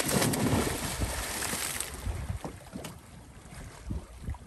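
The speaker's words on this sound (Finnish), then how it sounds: "Täällä on ihan helkkari kova tuuli." Strong gusty wind buffeting the microphone beside a long lake jetty, a loud rumbling roar that eases slightly, with faint water lapping underneath.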